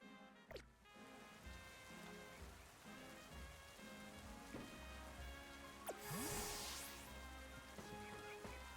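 Steady rain patters throughout as weather in the video game Pokémon Legends Z-A, a soft continuous hiss under tonal in-game music and sound effects.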